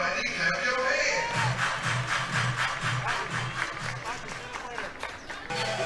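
Rhythmic crowd clapping fills the stands at a South Carolina vs Furman college softball game, steady and moderately loud, with an announcer talking over it.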